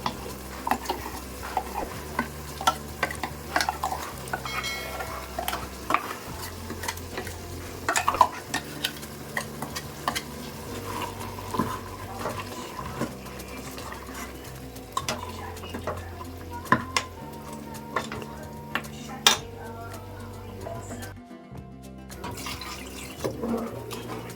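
Ground masala paste fries in oil with mutton in a pan, a steady sizzle and bubbling under repeated scraping and stirring clatter, with a brief quiet moment near the end.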